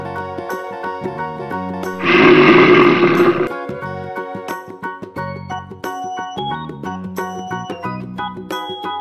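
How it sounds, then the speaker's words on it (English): A gorilla gives a short, harsh, growling roar of about a second and a half, loud and close, set against a bright, steady children's music backing. "Gorilla."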